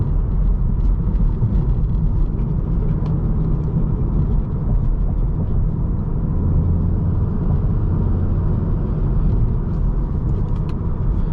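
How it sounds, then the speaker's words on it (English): Engine of a 2019 Volkswagen Golf R with six-speed manual gearbox blipping its throttle for rev-matched downshifts while driving, a steady loud low rumble with road noise throughout and no voices. "Nice and responsive throttle for some downshift rev matching."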